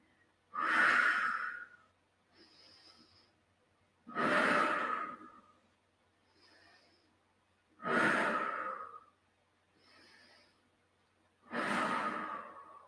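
Slow paced breathing in a body-weight exercise session: four strong, full exhales through the mouth at about four-second intervals, with a softer nasal inhale heard between each one. The breaths are close and clear, with no talking.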